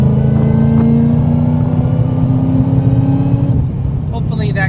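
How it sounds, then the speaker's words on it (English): A Ford Coyote V8 engine pulls at part throttle in fourth gear, giving a loud, steady low engine drone with a rumbling tone that holds throughout and then fades slightly toward the end. "I'm going to sport shift down to on fourth gear, and I'm going to give it part throttle"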